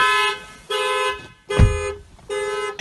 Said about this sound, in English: Open the driver's door with a mechanical key and the factory alarm system is immediately activated.